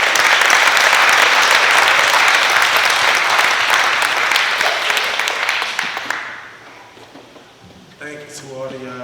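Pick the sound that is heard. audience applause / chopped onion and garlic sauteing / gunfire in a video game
audience applause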